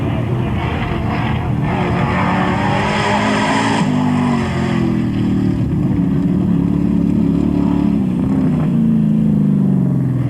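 Loud race car engine revving hard and changing gears as it climbs the Collingrove hillclimb course in South Australia, surplus horsepower struggling for grip on its tyres, with a commentator talking over the continuous roar throughout.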